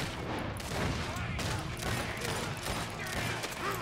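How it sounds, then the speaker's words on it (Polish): Gunfire crackles in a shootout in the video game Red Dead Redemption 2, with steady overlapping shots and clatter under a busy mix and someone talking over it. "O, one pięknie strzelają. Kto tu tak strzela?"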